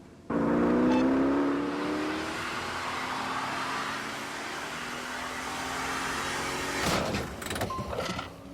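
A car with traction control off spins its wheels in a sustained clutch-slipping strain, the engine holding a steady high drone with a rising whine before it cuts off into a few clunks and knocks.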